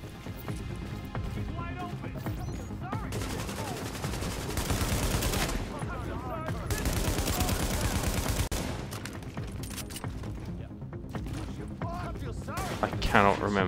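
Enemy heavy gun firing during a firefight in the video game The Division, a dense, sustained rattle of rapid gunshots that keeps going for many seconds, loud and close, mixed with game effects and someone talking over it.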